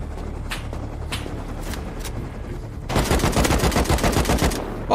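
Gunfire in the video game Rust: scattered single shots early on, then a rapid automatic burst of closely spaced cracks for about two seconds, loud and near.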